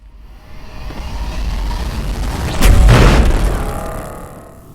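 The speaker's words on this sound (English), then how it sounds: "I've fixed the explosions so that it slowly explodes outward and damages the blocks as it goes along" Explosion in the indie block-building game Islands of War, spreading outward and destroying blocks: a low rumble swells, then a loud broadband burst hits midway and slowly decays.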